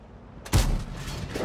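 A tank cannon fires in World of Tanks, a single sharp, heavy boom with a short rumbling tail, loud and alone against a faint background of game ambience.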